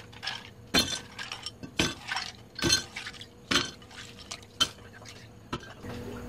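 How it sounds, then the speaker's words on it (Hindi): Ice cubes dropped into a glass while making jamun sharbat, giving about six separate sharp clinks and clatters in a quiet kitchen, each followed by a short rattle. "सबसे पहले हम आइस क्यूब डालेंगे।"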